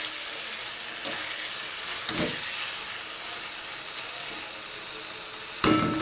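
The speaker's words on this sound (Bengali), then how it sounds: "এবার শাকগুলো মশলার সাথে একটু ভাজা ভাজা করে নেব।" Leafy greens fry with spices in a pan, giving a steady, moderate sizzle with a few sharp stirring knocks against the pan.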